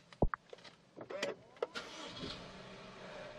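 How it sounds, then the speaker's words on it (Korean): A Jaguar XF 2.0 starting up from inside the cabin, with a brief crank and a small motor whirring as the rotary gear selector rises, then a steady low idle with a few soft clicks. "네, 시동과 함께 이 기어 노브까지 같이 올라옵니다."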